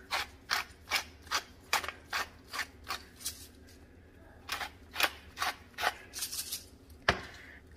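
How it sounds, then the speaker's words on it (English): Black pepper cracked in a pepper mill for a lunch-box dish, a quick series of dry ratcheting grinds in steady bursts, a brief pause, then another run of crisp turns ending in a sharper click. "Cracked black pepper."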